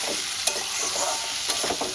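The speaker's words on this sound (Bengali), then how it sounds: "সুন্দর করে কষাতে থাকবো।" Spices and elephant foot yam sautéing in a pan for a fish-head curry, giving a dense, continuous close sizzle broken by sharp spatula scrapes and knocks.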